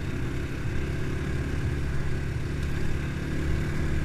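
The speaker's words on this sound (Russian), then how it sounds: "Но работа двигателя приятненькая такая," Progasi Gaudi 300 motorcycle engine hums steadily while riding, a smooth, even drone with road and wind noise and no sharp revving. Moderately loud and continuous, with no talking.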